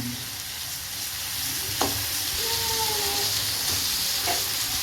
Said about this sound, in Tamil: இப்போ நல்லா வதக்கி விட்டுடலாம் ஸ்டவ் நல்லா சிம்லே இருக்கட்டு மசாலாவோட சிக்கன் வந்து நல்லா மிக்ஸ் ஆகணும்